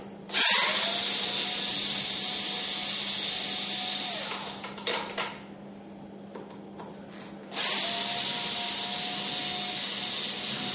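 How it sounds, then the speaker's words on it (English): A power drill or driver backs out two screws from the injector cap of a water softener control valve, two steady whirring runs with a brief pause of fiddling between them, close and alone. "we're going to remove the two screws from the injector cap"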